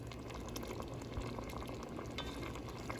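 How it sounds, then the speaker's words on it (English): Butter chicken sauce with heavy cream simmers in a pan, giving a steady, close bubbling and popping with soft crackles throughout. "I'm gonna go ahead and let this simmer for about 15 minutes until it gets nice and thick."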